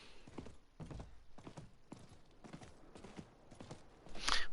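Horse hooves clip-clop in Diablo 4 as the mount moves at a steady walking rhythm, fairly quiet and close, ending in a brief louder burst with no talk over it.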